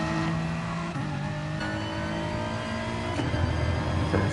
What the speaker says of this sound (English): So that's Chris there, revving that BMW M4 as high as he can